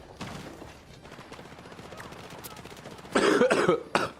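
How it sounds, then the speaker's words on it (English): Faint background noise gives way to a cluster of harsh, rough coughs near the end, loud and close. "I don't know why the coughing's ramped up."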